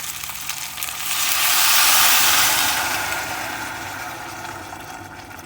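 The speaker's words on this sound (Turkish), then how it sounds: "Üzerine aşacak kadar da su koyacağım." Water pours steadily into a cooking pot of potato soup, a rushing wash that swells in the middle and tapers off, with a faint hum beneath.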